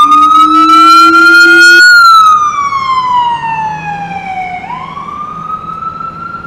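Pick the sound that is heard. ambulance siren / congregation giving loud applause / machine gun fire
ambulance siren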